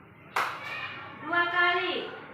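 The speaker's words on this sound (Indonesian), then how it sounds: "kalau dengar ibu tepuk 1 kali dulu" A teacher in a classroom gives a single sharp hand clap, close and crisp, followed by a brief pause and then a voice speaking.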